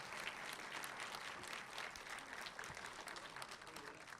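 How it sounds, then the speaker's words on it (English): Applause from an audience at a city State of the City address, a continuous patter of many hands clapping at a fairly even level, recorded faintly and at some distance. "Let's give them applause."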